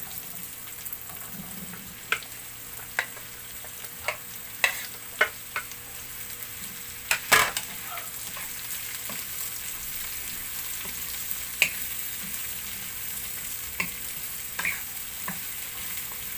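Chopped upo (bottle gourd) fries in a pan under a low, steady sizzle while a spoon stirs it, giving scattered scraping clicks and taps throughout.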